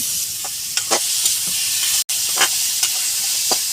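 Finely chopped onions fry in a pan, giving a loud, even sizzle broken by soft stirring scrapes and one brief dropout.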